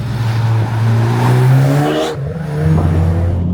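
A Stage 3 Audi S1 accelerating hard on a B road, its engine note climbing steadily under load, cutting briefly at a gear change around two seconds, then pulling again, loud and close.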